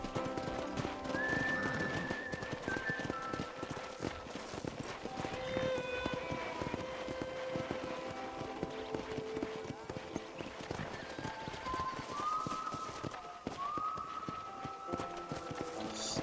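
Rhythmic clip-clop of horse hooves galloping over ground in the video game Red Dead Redemption, with occasional whinnies and a voice talking over the top.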